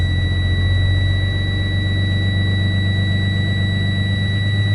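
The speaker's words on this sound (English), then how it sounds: "To accelerate the process, I will press in the fuel, not exceeding the 1200 RPMs." Class B truck diesel engine held at steady raised revs, just under 1200 RPM, to build air pressure; a loud, constant low drone with a high whine running throughout, no talk.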